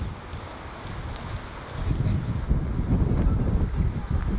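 Strong outdoor wind buffets the microphone with a steady, broad roar that grows louder after a couple of seconds and holds through to the end.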